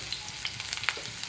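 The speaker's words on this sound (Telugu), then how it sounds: "ఆనియన్స్, పచ్చిమిర్చి ఒకటేసారి వేసేసుకోవాలండి" Onions and green chillies sizzle and fry steadily in a pan, a close, continuous crackling hiss with small pops and no talking.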